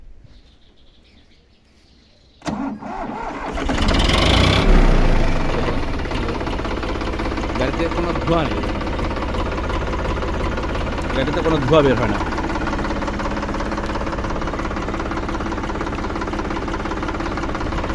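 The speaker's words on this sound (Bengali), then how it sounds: "তারপরে স্টার্ট করে ইঞ্জিন সাউন্ডটা" A Sonalika 50 tractor engine starts with a sudden burst and then settles into a steady, close, continuous idle that runs to the end, with someone talking over it.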